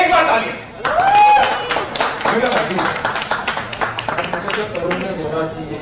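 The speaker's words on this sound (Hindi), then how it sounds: "एक बार तालियां।" Audience at a music video launch event for a song breaks into applause, a dense wash of clapping running several seconds with voices mixed in.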